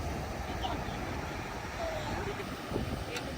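Strong wind buffets the microphone in a constant low roar, with people talking in the background.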